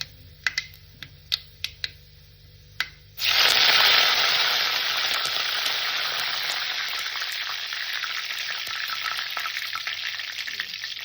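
Curry leaves hit hot coconut oil in a pan, already holding popped mustard seeds, for a mussel thoran. A few light clicks come first, then a loud, sudden, close sizzle that stays strong and slowly eases.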